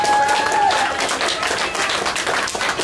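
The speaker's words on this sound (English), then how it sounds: "Give them a big round of applause." An audience claps for prize winners at a community pet competition, a steady round of applause mixed with crowd murmur. A faint tone briefly sounds over the clapping at the start.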